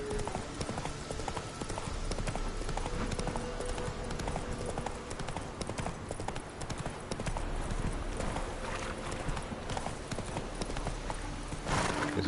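Roach the horse gallops in The Witcher 3, steady clip-clop hoofbeats running continuously under game ambience and music, with a brief whinny-like burst near the end.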